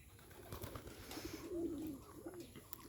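Bombay pigeons sitting on a roof give a faint, low rolling coo near the middle, quiet and somewhat distant against outdoor background noise, with no voices.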